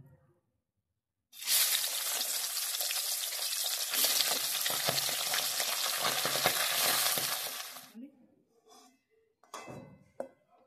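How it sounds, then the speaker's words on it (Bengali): Pieces of fish head dropped into hot mustard oil burst into a loud, dense sizzle that runs for about six seconds and then fades, followed by a few faint clatters and scrapes nearby. "এবার ছেড়ে দেব মাছের মাথার টুকরোগুলো"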